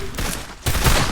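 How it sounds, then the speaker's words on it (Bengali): Free Fire video game gunfire lands headshots: two loud, sharp bursts about half a second apart, each a broad crack with a short rumbling tail, close and punchy. "আমি এখন এখানে হেডশট এক মারছি, দ্বিতীয় হেডশট মারছি আমি।"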